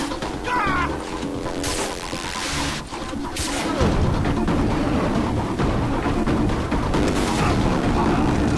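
Gunfire and crashing impacts in the first-person shooter Far Cry 3, a loud, dense battle wash of shots and booms that grows fuller and continuous after the first few seconds, with no talk over it.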